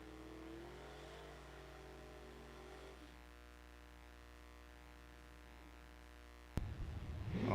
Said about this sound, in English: that does sound like a car is ready to go here.